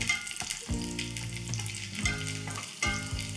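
Ten to twelve garlic cloves fry in a spoonful of hot oil on a griddle, giving a loud continuous crackling sizzle, broken by repeated scraping and stirring strokes with the spatula.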